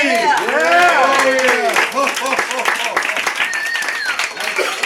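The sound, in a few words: audience applause for Mr. C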